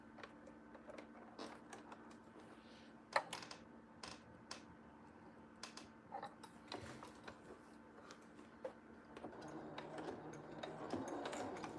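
A sewing machine stitches an elastic band, quiet bursts of rapid mechanical ticking starting and stopping in short runs for back stitches, with faint clicks between.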